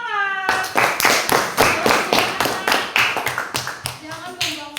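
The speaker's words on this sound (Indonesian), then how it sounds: "Ya, oke, tepuk tangan." Rhythmic hand clapping in a classroom setting, a steady series of sharp claps from a group of children, close and loud, with voices chanting along over the beat.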